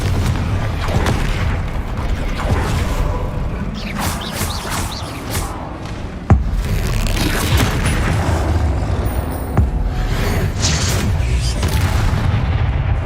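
Repeated explosive spell blasts from combat in Hogwarts Legacy, a dense stream of booming detonations and crackling impacts layered over continuous loud battle noise, with a few sharper hits standing out.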